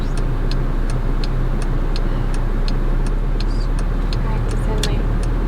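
Car with a manual stick-shift transmission driving in traffic, a steady low engine and road rumble with a faint regular ticking, like a turn signal, throughout; voices are present.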